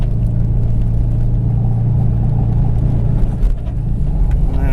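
A warmed-up project car engine idles steadily and close by, a deep continuous rumble with a low droning hum and no voices.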